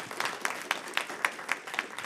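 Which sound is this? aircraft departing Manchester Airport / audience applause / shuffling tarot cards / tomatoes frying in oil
audience applause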